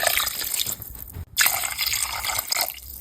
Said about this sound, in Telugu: తర్వాత దీంట్లో ఆ రెండు గ్లాసుల వాటర్ని వేసుకోవాలి